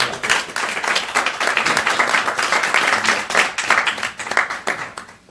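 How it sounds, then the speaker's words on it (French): An audience at a We Love Start-Up press conference for Lyon French Tech applauds the start-ups. The dense, steady clapping from many hands continues for several seconds at a fairly loud level. "Et on peut les applaudir."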